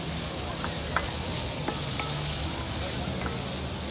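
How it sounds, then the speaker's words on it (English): Peaches caramelizing in butter in a skillet give a steady, close sizzle with a dense hiss throughout, and a few light clicks of a utensil stirring the fruit. "I'm gonna caramelize that real good in the butter."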